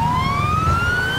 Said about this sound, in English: Don't know what that siren sound was